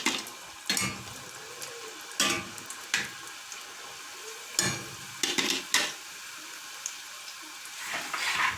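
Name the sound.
chebakia dough frying in hot oil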